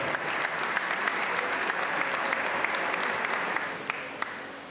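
An audience at a 40th anniversary celebration gathering claps in steady, sustained applause, a dense wash of many hands close by with no speech over it, easing slightly toward the end.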